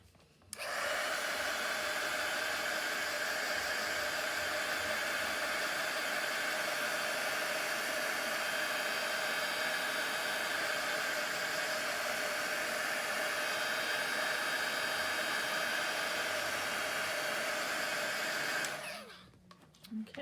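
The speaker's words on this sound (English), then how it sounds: "I'm gonna grab my heat tool." A handheld heat tool blows hot air over a paper craft project, a loud, steady whooshing roar that switches on, runs unbroken for about eighteen seconds, then cuts off.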